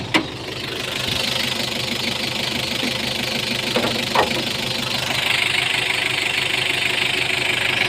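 A 1995 Nissan Big M single-cab pickup engine runs steadily at idle, a close, even mechanical knocking hum with a faint tap early on and no talking over it.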